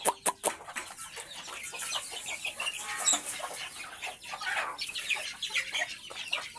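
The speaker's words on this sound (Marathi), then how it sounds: "बघा कोंबड्या बदक सगळी जमा झालेत." Chickens cluck in a busy, overlapping flock on a farm, with ducks gathered among them, many short calls close by and continuous with no gaps.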